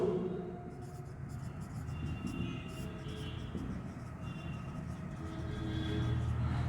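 A marker scratches out short strokes on a board and is then rubbed out during a classroom lesson, soft and intermittent over a constant low background hum.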